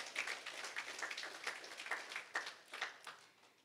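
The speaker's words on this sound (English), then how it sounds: "Can we give God a round of applause?" A church congregation claps in faint, distant applause, with soft uneven claps merging into a steady patter that rises and dips over a few seconds.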